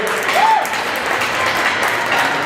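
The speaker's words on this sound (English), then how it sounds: "How about another great round of applause for both of these teams on a great championship game." Steady applause from spectators at a minor boys' hockey championship game, a dense even wash of clapping lasting a couple of seconds with a faint crowd murmur.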